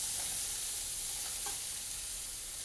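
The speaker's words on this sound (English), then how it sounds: "let's add all those shallots and all that Dijon" Shallots and Dijon mustard hit a hot pan just used for duck breast, giving a faint, even, hissing sizzle that holds steady for a few seconds with no voices.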